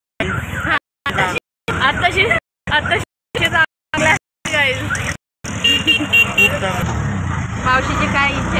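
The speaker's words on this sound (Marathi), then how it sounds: "आता आम्ही रिक्षामध्ये बसलोय" Auto rickshaw ride through busy traffic, with engine and road rumble, passing vehicles and occasional horn toots mixed with voices and babble, broken by repeated abrupt cuts to silence.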